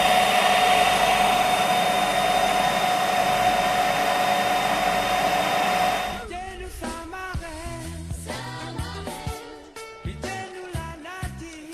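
A coffee grinding machine crushes roasted beans with a loud steady whir for about six seconds, then gives way to coarser, intermittent clattering and rumbling as it winds down.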